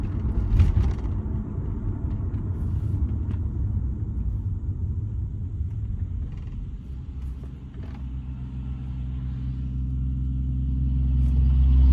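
A 1995 Mercedes-Benz S600 with a V12 engine accelerates on the road, a smooth low rumble heard from inside the cabin that swells gradually toward the end, with no talk.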